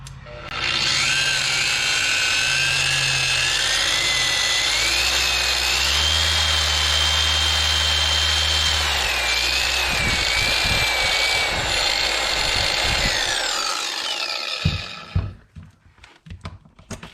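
A Harbor Freight Bauer 6-inch medium duty polisher runs with a loud, steady high-pitched motor whine for about fifteen seconds, then spins down, followed by a few handling knocks.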